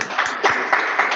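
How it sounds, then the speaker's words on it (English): Scattered clapping from a small online launch audience for the book "Federal Gods", a few uneven bursts of hand claps at moderate level, close and somewhat thin. "let's clap, because it's really"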